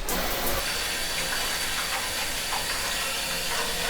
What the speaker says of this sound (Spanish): vamos a empezar a llenar el ofuro con el agua caliente